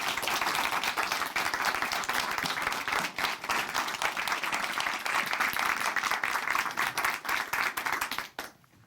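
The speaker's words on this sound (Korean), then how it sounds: "박수로 맞이해 주세요." A church congregation in Chuncheon applauds to welcome a man coming up to give his testimony, steady dense clapping filling the room for about eight seconds before cutting off abruptly.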